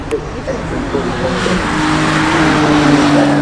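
A BMW G81 M3 Touring at the Goodwood Festival of Speed accelerates at full throttle, a loud engine roar rising steadily in pitch over the clip, with voices talking underneath.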